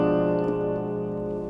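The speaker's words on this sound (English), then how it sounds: "This is the sound of fully diminished." A fully diminished seventh chord rings out as a single sustained, steady chord with a smooth electronic tone, fading slightly over a second and a half.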